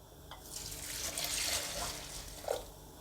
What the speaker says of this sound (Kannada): ಮೊದಲಿಗೆ ಅವಲಕ್ಕಿನ ಚೆನ್ನಾಗಿ ತೊಳಿಬೇಕು